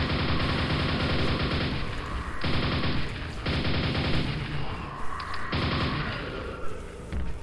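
Rapid bursts of gunfire and explosions from the Quake video game played through Quakespasm, loud and close, coming in dense repeated volleys with short gaps between them.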